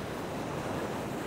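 Sea swell breaking on a shore near Arbroath under an onshore wind, a steady broadband wash of surf with wind rush across the microphone, continuous and fairly loud with no voices.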